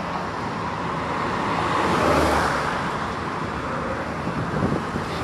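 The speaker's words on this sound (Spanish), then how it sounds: "Pero metros antes es donde empieza el tráfico." Steady road traffic at the bridge entrance to Los Rodríguez in Santiago, Nuevo León, a continuous wash of passing car noise with a swell midway, and some wind buffeting the microphone.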